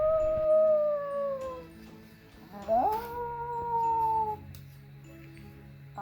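A person imitates cat noises while playing with a pet cat, giving long wavering meows and howl-like calls in two drawn-out bursts separated by a short pause, close and fairly loud.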